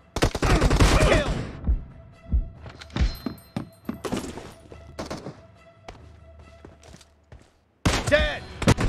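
Bolt-action K98 rifle shots ring out in PUBG, several sharp separate cracks spaced seconds apart amid game sounds and bursts of voice, some loud and close, others fainter.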